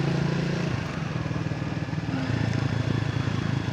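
Triumph Speed 400 motorcycle engine braking while riding, its low engine note falling and burbling steadily as the bike slows, heard close and alone.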